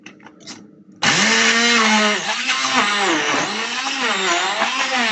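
A countertop blender roars on abruptly after a moment of quiet, blending fresh garden greens and ginger into juice; the loud steady motor whine dips and rises as the contents shift and load the blades.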